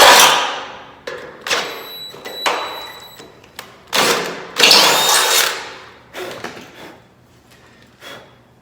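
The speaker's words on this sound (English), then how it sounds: "take my 3/8 inch drill bit" A power drill fitted with a 3/8 inch bit bores through bolt holes in a vehicle frame in a garage, running in repeated short loud bursts with clanks and metallic rattles between them and no talking.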